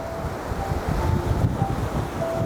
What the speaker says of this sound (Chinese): 风太大了，风一大鱼竿就甩了